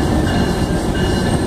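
A train rumbling past on the daily commute to work, a loud, close and continuous roar of rail cars with a steady rushing, rattling texture and no voices.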